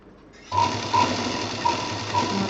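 A sewing machine stitches a fabric bag, a steady close mechanical whirring with rhythmic needle clatter that starts abruptly and runs evenly, with a few faint squeaks along the way.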